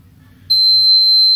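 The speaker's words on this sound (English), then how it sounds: "the LCD displays wrong password and the buzzer is turned on" A door security locking system's buzzer sounds after a wrong password is entered, giving a single loud, steady high-pitched electronic beep that starts abruptly and holds without a break.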